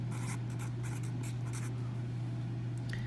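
Pen writing in a notebook, a steady scratchy scribble in short repeated strokes over a constant low hum, close and fairly quiet.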